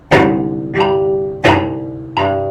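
Four gritty, percussive cello chop strokes with an up-bow movement in a steady rhythm, each a scratchy attack followed by a short ringing tone, played alone and up close.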